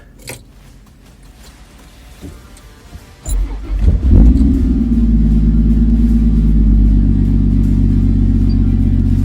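A Toyota 80 Series 4WD starts up after a power steering pump replacement: quiet handling clicks, then a cranking burst as the engine catches and settles into a loud, steady idle rumble that continues to the end.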